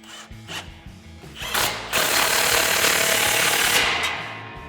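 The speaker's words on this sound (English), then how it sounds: "we'll take our 16mm socket to tighten that down" A tool runs a 16mm socket to tighten an exhaust clamp on a RAM 1500 dual exhaust, with short bursts of mechanical rattling that build into a loud, sustained buzzing whir near the end.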